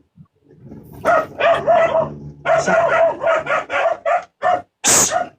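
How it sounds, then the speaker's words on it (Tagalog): A dog barks loudly and close in a rapid string of sharp yaps and short bursts, with a brief voice near the start. "Ingay ng aso."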